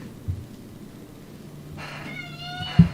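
A cat meows once in a rising, drawn-out cry near the end, fairly close, over quiet room noise.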